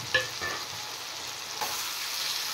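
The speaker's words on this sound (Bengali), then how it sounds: "ভেজে রাখা মাছগুলো দিয়ে দেবো।" Pre-fried kajli fish tipped into a hot pan of fried vegetables and melted tomato, a brief thump at the start giving way to a steady, close hiss of oil that stays strong and even throughout.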